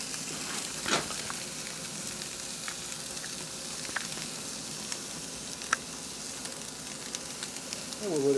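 A hamburger patty sizzles over the hot part of a grill turned up high, giving a soft, steady crackling hiss with scattered pops and a faint rustle near the end.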